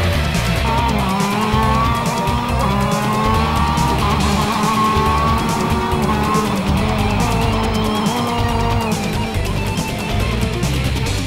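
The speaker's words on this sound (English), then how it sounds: "The direct drive classes, that is for the karts without gears, have rolling starts after a slow formation lap" Gearless and gearbox racing karts at a race start make a loud, dense, continuous engine drone that holds steady throughout, with a nearby rasping whine over the pack.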